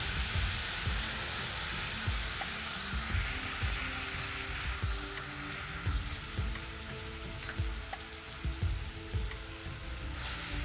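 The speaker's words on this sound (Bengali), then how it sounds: "এবার তেলে দিয়ে দিচ্ছি গোটা জিরে ফোড়ন, তেজপাতা, পেঁয়াজ আর রসুন বাটা" Whole cumin, bay leaf, and onion and garlic paste sizzle softly in hot oil in a pan after fish has been fried, a steady low crackle with occasional stirring clinks and no talking.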